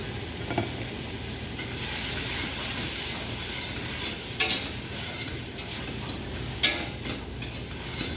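Meat and tomato paste stirred in a cooking pot, a steady sizzling hiss with occasional scraping clinks of the spoon against the pot, close and continuous.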